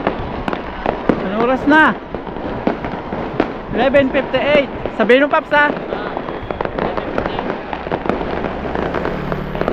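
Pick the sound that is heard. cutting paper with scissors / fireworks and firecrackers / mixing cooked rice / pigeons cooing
fireworks and firecrackers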